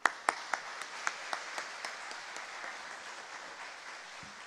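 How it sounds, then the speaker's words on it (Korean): A church congregation claps at a Sunday afternoon service to welcome a visiting missionary from the Philippines, beginning with sharp, distinct claps that soon blur into softer, fading applause. "목사님 나오실 때에 뜨겁게 박수로 환영하도록 하겠습니다"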